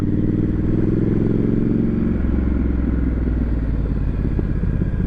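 A Scrambler motorcycle rides a twisty mountain road on Route 32 near Cosby, Tennessee, its engine a loud, close, continuous drone whose note drops as it changes pace.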